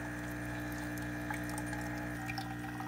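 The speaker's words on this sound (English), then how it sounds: "So there's the water that's coming out." A Mr Coffee One Touch Coffee House espresso machine pumps water out in a steady, continuous hum with a low tonal drone and a faint trickle on top, holding level the whole time with no talking.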